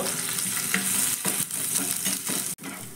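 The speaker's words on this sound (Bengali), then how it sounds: "এবার এই সব মশলাগুলোকে হালকা একটু ভেজে নেব।" Cumin, green chili and grated ginger fry lightly in a pan, sizzling loudly up close with stirring scrapes and one brief sharp break near the end.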